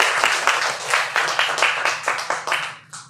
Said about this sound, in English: a bit of a round of applause for everyone who's come along tonight.